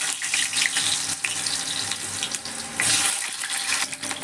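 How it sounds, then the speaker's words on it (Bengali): Potatoes hitting hot oil in a pan, a loud dense sizzling hiss that holds steady and surges briefly partway through. "এর মধ্যে আমি আলুগুলো ছেড়ে দেব"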